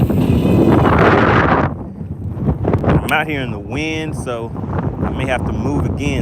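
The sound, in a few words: wind blowing over the microphone on Lake Lanier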